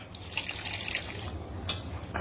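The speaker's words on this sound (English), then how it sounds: "I'm gonna add in the water." Water poured into a bowl of dumpling filling gives a soft, continuous trickling and splashing, fairly quiet and close, with a low background hum.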